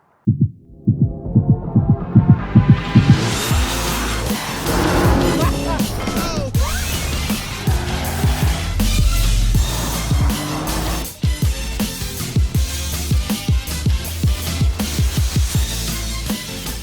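A BMW M2 CS fitted with an Akrapovic exhaust starts with a burst of loud pulsing exhaust beats, then revs hard in rising and falling sweeps, loud and close, ending in throbbing pops.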